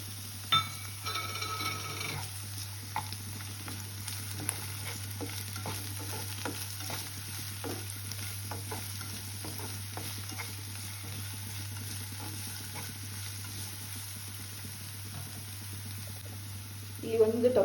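Chopped capsicum and onion fry quietly in a pan while a spoon stirs them, giving soft intermittent scraping and light sizzle over a steady low hum, with a clatter near the end.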